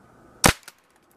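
A paintball packed with 16 toy gun caps bursts against a tree outdoors, one sharp loud crack followed by a faint echoing pop.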